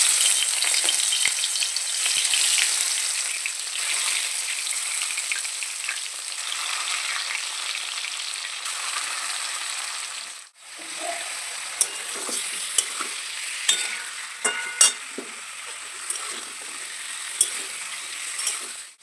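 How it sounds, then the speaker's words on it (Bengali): Chicken pieces fry loudly in hot oil, a steady dense sizzle that dips briefly midway and then returns with sharp scrapes and knocks of stirring against the pan. "মাংসগুলো তুলে ওই তেলটাতে দিয়ে দিচ্ছি। দিয়ে মাংসগুলো হালকা করে শুধু জাস্ট ভেজে নেব"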